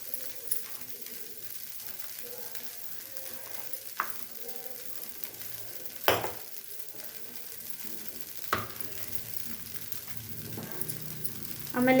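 Masala dosa cooking in oil on a hot pan: a soft, steady sizzle runs throughout, fairly quiet, broken by occasional sharp clicks and scrapes.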